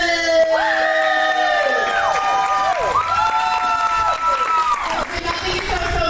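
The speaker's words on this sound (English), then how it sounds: "Please clap it up for Lily!" Audience at a poetry slam cheers and whoops loudly, with high sustained shouts and yells over clapping from a lively crowd throughout.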